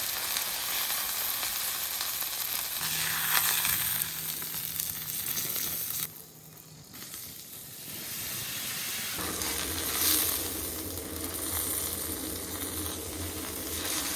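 A chuck roast searing on a very hot griddle gives a loud, dense, continuous sizzle and hiss close by, dipping briefly partway through before surging back steady and strong.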